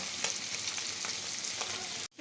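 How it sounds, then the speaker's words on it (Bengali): Even, hissing sizzle of fish frying in hot oil, close by, with a few soft pops, cutting off at the end. "মাছ দিয়ে দিলাম বড় এক পাশে রাখা মাছও বেজে নিচ্ছি"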